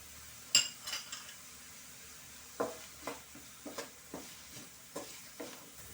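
Onions frying with salt in a pan for a mushroom masala curry: a soft, low sizzle beneath a string of light spatula scrapes and taps against the pan, close by and without voices.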